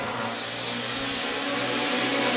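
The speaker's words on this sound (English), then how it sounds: "I can hear a flat engine." Rallycross race car engine misfiring and running on three cylinders, giving a loud, steady, rough drone that builds slightly toward the end with no talk.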